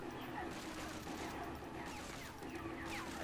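Bursts of random gunfire fill the World War II shooter Medal of Honor Frontline, a dense, continuous clatter of shots and crashes that runs loud and unbroken with no talk over it.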